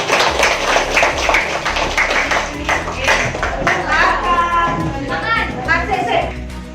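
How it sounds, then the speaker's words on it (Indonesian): A classroom of children claps for a classmate, a brisk burst of hand claps, with children's voices chattering and calling out over the clapping. "tepuk tangan sekali untuk Nadine."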